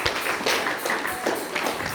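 A church congregation claps and acclaims during a French-language service in Geneva, producing close, dense rhythmic clapping with some voices mixed in over two seconds.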